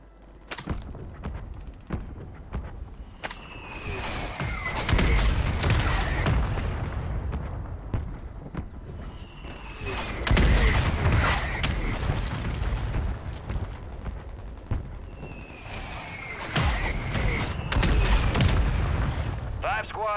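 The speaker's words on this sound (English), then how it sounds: "Hostile mortar strike, Take near your position" Mortar strike explosions in a Call of Duty game: several heavy booms and thuds arrive in clusters across the stretch, loud and close, with rumbling aftermath between them and a voice talking over parts.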